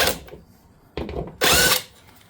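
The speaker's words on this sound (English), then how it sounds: "I'm just going to use a 10mm with an impact wrench, which should speed things up." An impact wrench with a 10mm socket removes under-tray bolts on a Lexus LS430: two short whirring bursts, the second louder and longer, separated by a quiet pause.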